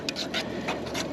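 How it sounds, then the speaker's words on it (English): Refried beans thinned with water are stirred in a pot at an overnight car camp, giving a few quick, rhythmic scraping swishes close by. "And just give that a good stir."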